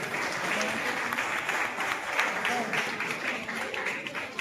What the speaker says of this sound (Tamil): நல்லா கைத்தட்டலாம் திருப்பிய கொடுங்க.